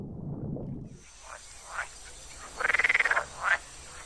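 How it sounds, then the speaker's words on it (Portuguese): Common frogs and green frogs croak in shallow, sun-warmed spring ponds at the Rieselfelder bird sanctuary in Münster. A low rumble fades out, then several short calls come before a loud, rapid pulsing croak and one final call. "Nos charcos, juntam-se rãs comuns e rãs verdes."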